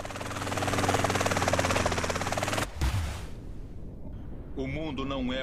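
A helicopter in GTA: San Andreas fills the opening with a loud, steady rotor and engine drone, cuts off abruptly under three seconds in, and gives way to a quieter stretch before a voice speaks.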